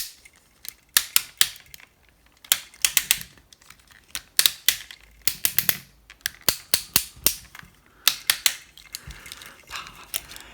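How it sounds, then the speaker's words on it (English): Plastic ratchet joints on a reissued Transformers Beast Wars Megatron action figure click in close, crisp bursts, several rapid clusters of sharp ticks separated by short pauses, with no voices. "Is there anything better than the sound of good clicky ratchet joints?"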